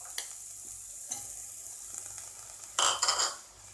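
Carrots and other vegetables sauté in oil for Tirunelveli-style Mappillai Sodhi, heard as a quiet sizzle broken by a few scraping stirs and one louder burst of sizzling and spoon clatter near the end.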